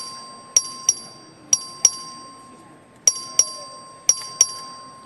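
A clerk rings the voting bell in the Texas House chamber: four pairs of quick bright electronic dings at steady intervals, fairly faint over a quiet room hum.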